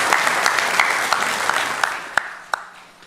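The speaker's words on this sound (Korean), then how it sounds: "우리 영광의 박수를 우리 하나님께 올려드리겠습니다." Sustained applause from a Korean church congregation at a Sunday morning worship service, a steady wash of many hands with a few louder nearby claps standing out as it slowly fades.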